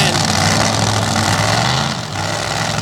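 Drag racing car engine at an ultra quick open class event, a loud, continuous low roar of exhaust that holds steady before dipping briefly, with a commentator's voice faintly mixed in.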